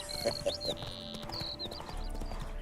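Roach, a horse in a video game, clip-clops along in a steady run of hoof beats while high whistling game tones and a brief neigh come through, with no talk.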